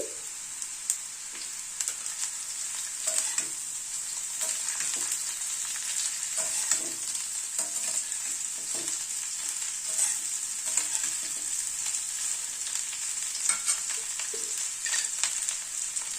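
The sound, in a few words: cauliflower and potatoes frying and being stirred in pan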